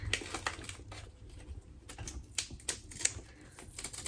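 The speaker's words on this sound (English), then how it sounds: "I'm trying to be gentle with the paper and it ain't happening" Floral wrapping paper tears and crinkles as it is pulled off a book, a string of sharp close crackles and rips in short irregular bursts.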